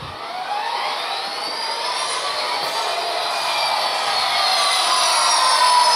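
A model train locomotive's onboard sound unit, run from an ESU CabController, starts up as the throttle advances: a steady, whining engine roar that builds gradually in pitch and loudness, heard alone without talk.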